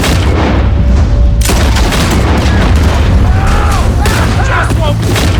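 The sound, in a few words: gunfire during moonshine raid in video game Red Dead Redemption 2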